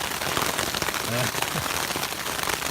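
Hail pelting the ground and a backpacking tent on the Pacific Crest Trail, a dense, constant patter of hits close by with a voice briefly heard underneath.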